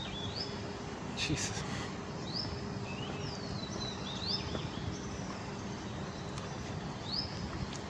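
Birds chirp on a quiet road a few minutes off a main road: short, rising tweets repeat through a steady outdoor hush, faint and distant, while a voice speaks briefly in the background.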